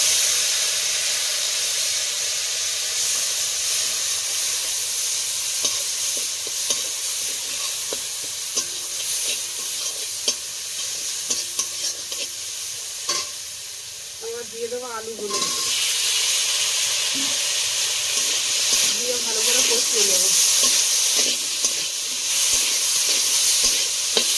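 Hilsa fish cooking in a hot pan hisses with a steady, loud sizzle as a little water is added, the frying noise swelling to a stronger, brighter hiss partway through, with faint voice in the background.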